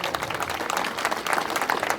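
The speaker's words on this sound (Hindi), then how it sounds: "एक बार जोरदार तालियां अपने लिए बजाओ पहले तो" Loud, continuous applause from an audience at an event at the Shri Prachin Hanuman temple in Bharat Nagar, dense clapping sustained steadily throughout without pause.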